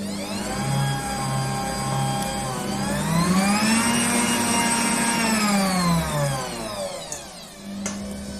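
An electric mixer beats syrup into macaron batter at low speed, a steady whining motor hum that rises in pitch as it speeds up briefly, then drops back before stopping, loud and close without voices.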